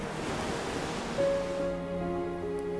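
Sea waves wash in a broad, steady roar of surf, with a sustained tonal drone rising partway through and a sharp burst at the very end.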